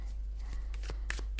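Tarot cards are shuffled by hand in a short, close burst of several quick riffling snaps and paper rustles, set over a steady low background hum.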